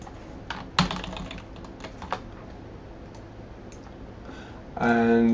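Computer keyboard typing with a handful of quick, separate key clicks close by, followed by a sudden loud tonal burst at the end.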